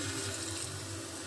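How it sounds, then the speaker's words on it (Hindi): Water poured from a container into a pan of fish curry with turmeric and chilli, a brief soft trickle and splash heard close up and fairly quiet. "थोड़ा से डाल देबो पानी।"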